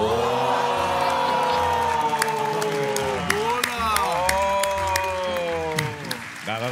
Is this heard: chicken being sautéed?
no